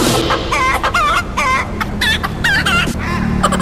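A person mimics chicken sounds, repeating a quick run of clucks and crowing squawks in a steady rhythm, loud and close with no other talk.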